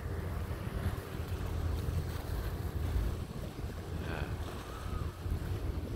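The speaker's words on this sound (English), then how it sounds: "Speedboat." Speedboat passing off a beach, a low rumbling engine wash mixed with wind buffeting and surf, steady and moderately distant with no talk.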